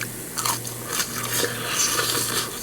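Grilled rice cake, crisp outside and soft inside, bitten and chewed up close with dry crunching and crackling over a steady low hum, without speech.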